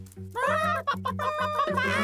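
Cartoonish chicken clucks from an animated children's Easter egg hunt in a quick, bouncy series over a simple backing tune, close and clear, sounding voiced rather than real birds.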